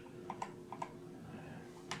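Keys clack on a new computer keyboard in a few quick, light bursts of typing, close and fairly quiet against a soft room hiss, with no voices.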